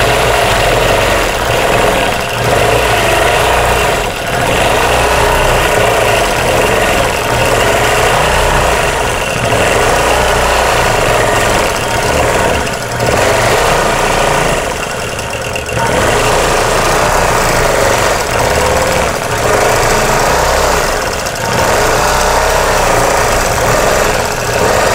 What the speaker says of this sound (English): So I'm going to stay in stitch regulated mode, and I'm on 12 stitches per inch.